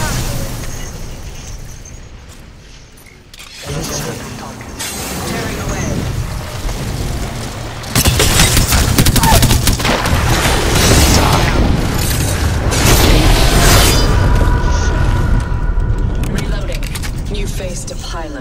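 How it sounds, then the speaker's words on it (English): Frag grenade explosions in the Apex Legends video game burst amid a loud, dense game mix of booms and mechanical effects, with in-game voice lines layered over the blasts. "Frag grenade set."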